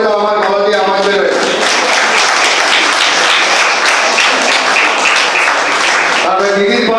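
An audience at a district conference of a savings agents' association breaks into loud, sustained clapping for about five seconds. Brief amplified speech comes just before and after the applause.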